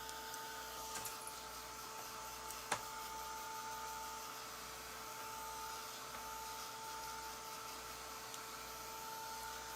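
A small dryer blows on a freshly painted nail polish base coat, giving a constant close whirring hum with a faint click or two and no pauses.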